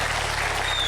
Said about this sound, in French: Ces 2 jeunes femmes sont encore avec nous ce soir et nous les applaudissons.